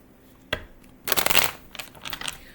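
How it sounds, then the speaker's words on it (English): A deck of tarot cards is shuffled close up: a single snap, then a rapid riffling burst and a few softer flutters. "Shuffling these up really good."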